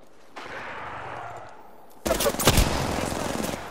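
Rapid gunfire in the video game Apex Legends, with quiet ambience at first and then a loud burst of shots and impacts crowding the second half.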